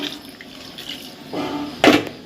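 Water splashes briefly into a pot of chicken curry near the end, a short gush after a quiet stretch of faint room noise.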